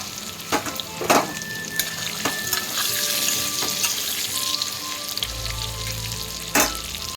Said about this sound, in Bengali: আলুটা আমি আগে একটু ভালো করে ভেজে নেব। এর উপরে একটু হলুদ গুঁড়ো দিয়ে দিচ্ছি।